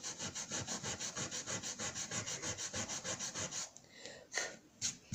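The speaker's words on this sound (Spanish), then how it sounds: "y lo vamos a lijar" Fine 400–500 grit sandpaper rubs back and forth across a wood piece prepared for pyrography, a steady quick scratching rhythm of even strokes close by, then a few slower, scattered passes at the end.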